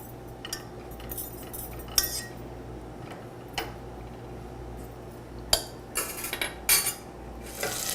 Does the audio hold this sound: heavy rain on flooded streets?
no